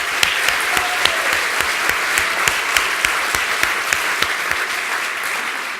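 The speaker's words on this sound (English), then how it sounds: "one more round of applause for all of our new" Sustained audience applause at a university convocation, a steady wash of many hands clapping with a few sharper individual claps standing out, even and loud throughout with no talking.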